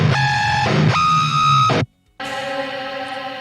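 Soloed distorted guitars with whammy-pedal pitch-bending effects, sustained harmonic-rich chords that warp in pitch, cut to a brief silence, then return with a dense buzzing tone.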